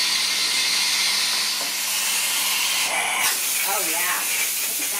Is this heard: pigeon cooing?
no